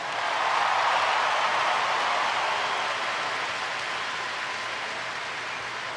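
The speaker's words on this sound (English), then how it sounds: "So let's give them a round of applause" A large arena crowd applauds steadily at a championship ring ceremony, a dense, loud wash of clapping and cheering that holds for several seconds and eases slightly toward the end.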